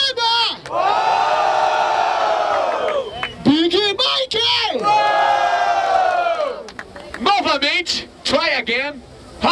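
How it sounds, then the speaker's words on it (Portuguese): A large crowd at a freestyle rap battle, the Batalha da Aldeia in Barueri, São Paulo, roars and shouts loudly and continuously, rising in repeated waves of cheering and whooping with brief dips between surges. "façam muito barulho, certo? Barulho para as rimas da Ravina"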